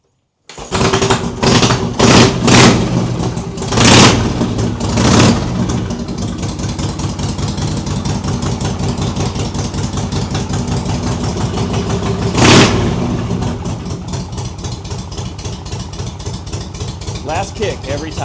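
A 1960s Harley Davidson Shovelhead motorcycle engine starts with a few loud revs, then settles into a steady, loping idle that throbs on for the rest of the time, close and loud, with a brief rev partway through.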